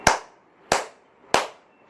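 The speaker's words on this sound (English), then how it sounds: "So when we clap" Three sharp, evenly spaced hand claps ring out close and crisp, each with a short decay, with no talking.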